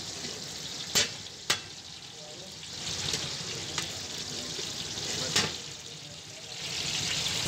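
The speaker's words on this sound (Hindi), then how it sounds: "और चिकन को अच्छे से ब्राउन करना है ताकि अच्छी खासी पक जाए ये।" Chicken browning in a pot for Kabuli pulao gives a steady, moderate frying hiss with broadband sizzle, broken by a few sharp clicks of utensil against pot. No one speaks.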